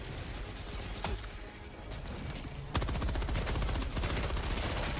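Rapid gunfire and explosive bursts from impact grenades in the video game Helldivers 2, a dense continuous barrage that grows louder and busier partway through, with no talking.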